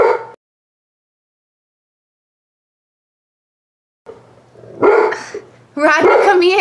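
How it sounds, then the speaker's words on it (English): A dog outside barks in a few sharp, close yips and bow-wows after a long silence, with a brief opening burst and a pair of louder barks at the end. "Oh, there's a dog outside."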